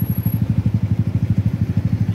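A motorcycle engine runs close by on a street, a loud, rapid, even chugging pulse that holds steady throughout with no voices.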